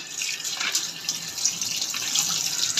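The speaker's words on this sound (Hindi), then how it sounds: "अब इसको वॉश कर लेंगे छलनी में डाल के" Food rinsed in a strainer under a running kitchen tap while preparing a summer recipe, a steady close splashing water stream throughout with no talking.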